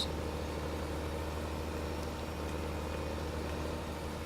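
A tractor engine idles steadily in Farming Simulator 15, a constant low rumble with a broad noisy hiss over it, continuous and even throughout with no voices.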